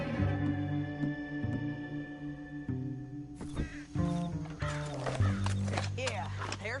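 Horse hooves clip-clop in Red Dead Redemption 2, a few hoof thuds under a sustained musical score, with game dialogue layered over them and the horse snorting.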